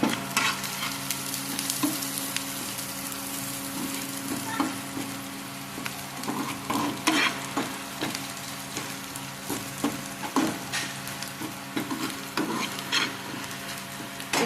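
Onions and masala fry for Mangalore-style chicken sukka, a steady close sizzle broken by repeated scraping stirs of a spoon against the pan, with no talking.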